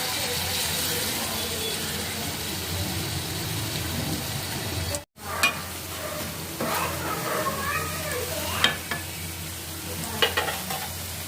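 Cornflour-dipped egg pieces fry in hot oil for spicy egg manchuria, a dense, steady sizzle broken by one brief silence midway, with occasional clinks and scrapes of stirring.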